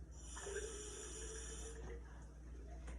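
Water running from a kitchen tap while preparing a vinegar and oil dressing, a steady hissing flow for a couple of seconds that cuts off, fairly faint, with no talk.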